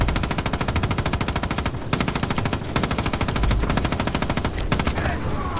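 Automatic gunfire in Far Cry 5 zombie survival mode: long, rapid machine-gun bursts that rattle almost nonstop, loud and close, broken by a few brief pauses.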